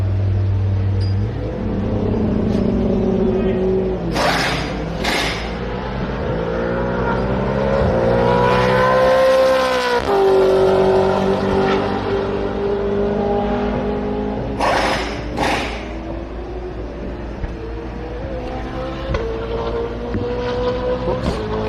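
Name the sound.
Triple Eight V8 Supercars race car weaving to heat tyres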